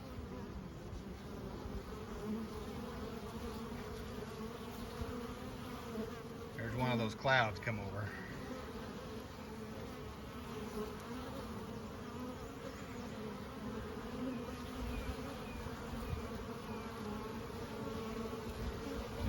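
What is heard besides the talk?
honey bees flying around a Langstroth hive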